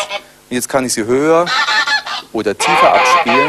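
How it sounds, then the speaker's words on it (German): Goose honking sound effect played back from a computer at shifted pitch, several loud honks in quick succession between bursts of someone talking. "Das klingt so wie eine Gans."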